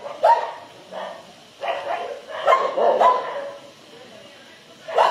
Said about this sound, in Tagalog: Nagtahol sabay-sabay yung mga aso ah.